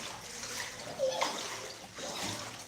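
Rainwater floods into a house, splashing and trickling steadily, with a brief louder slosh partway through, close by and continuous.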